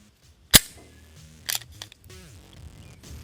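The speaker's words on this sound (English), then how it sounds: "Trigger pull is nice. It's really nice for the gun. Reset." Dry-fire trigger work on a Walther PDP F-Series pistol: a sharp close metallic click of the trigger break, then a second quieter click as the trigger resets, followed by faint handling noise.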